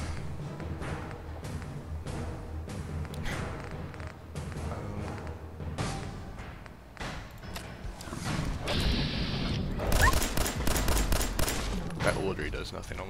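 Gunfire in Fallout 4, with repeated rapid shots in fast bursts over a busy game mix, loud and close, with brief talking in between.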